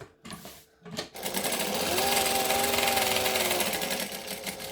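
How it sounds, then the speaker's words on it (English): A sewing machine stitches waterproof canvas for a bag, starting with a couple of short bursts, then running in a steady fast mechanical whir with a rising tonal hum, close and loud. "I'm going to go back to a joining stitch length, and I'm going to go around."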